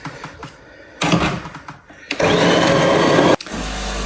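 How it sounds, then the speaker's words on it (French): A coffee maker brewing at home gives off a loud hissing, gurgling rush in uneven bursts, strongest in the second half, with clicks and a low hum as it runs. "Désolée pour le bruit de la cafetière"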